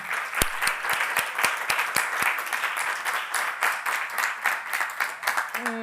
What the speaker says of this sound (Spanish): Nos vamos a quedar con un aplauso, claro que sí.